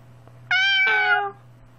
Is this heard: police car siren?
no